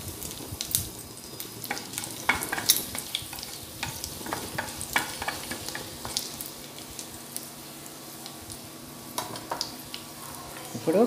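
Mustard seeds and cumin sizzling in hot oil for a semiya dish, a steady fry with rapid, irregular popping and crackling spits close by.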